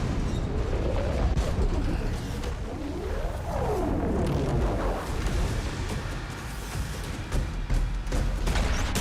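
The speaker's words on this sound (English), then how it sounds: "How big of an explosion?" A large explosion in the video game DOOM: The Dark Ages sends out a dense, booming roar with sweeping, rumbling tails. It sustains loudly for several seconds amid continuous game noise.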